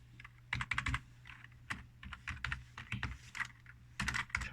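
Keys clatter on a computer keyboard in quick uneven bursts with brief pauses, close and fairly quiet, with no voices.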